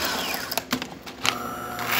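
The built-in coffee grinder of a De'Longhi Gran Dama espresso machine runs at its third setting, giving close, brief bursts of mechanical clicking followed by a short whirring tone.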